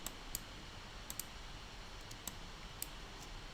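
Faint computer mouse clicks, a few sharp isolated ticks spread irregularly over a quiet background hiss.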